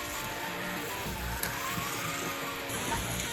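Slot cars racing around a track, driven by a three-year-old, with a steady whirring electric motor hum and occasional faint clicks and squeaks.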